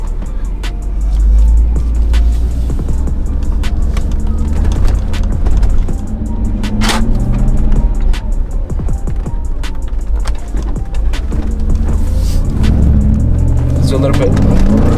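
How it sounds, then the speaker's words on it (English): A rebuilt Mercedes G55 AMG, a heavy 7,000-pound SUV, pulls away with a deep, steady exhaust rumble heard from inside the cabin, with a voice talking over it. "Hopefully you can hear the exhaust on the inside."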